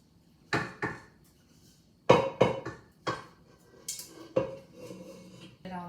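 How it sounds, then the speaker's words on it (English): A bundt pan of cake batter is tapped against a countertop, giving about eight sharp metallic knocks in small clusters, close and fairly loud against a quiet room with no speech. "And we're just going to tap it out."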